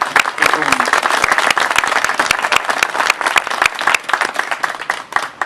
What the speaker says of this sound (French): Je crois qu'on peut applaudir la municipalité pour tout ce qu'on peut vous